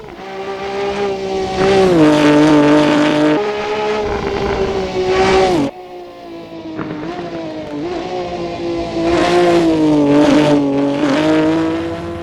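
A 1970s classic race car from Assetto Corsa's Pessio Garage mod runs a lap at Thompson Road, its loud harmonic engine note rising and falling through revs and gear shifts with brief drops when the throttle lifts.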